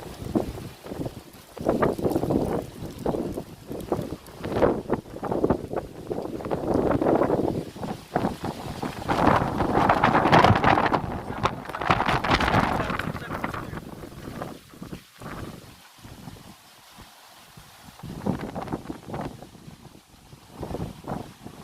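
Gusty outdoor wind buffets the microphone in hot, dry weather beside dry grass, its roaring swells rising and falling under a person talking throughout.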